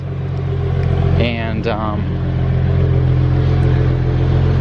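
A BMW 335i engine catches on start-up and settles into a steady, low idle that hums on continuously, while someone speaks briefly over it.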